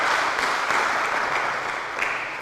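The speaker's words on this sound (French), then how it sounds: "Applaudissez très fort pour vous." Steady applause from a comedy show audience in Kinshasa, a dense even wash of clapping that holds for the whole stretch with no voices over it.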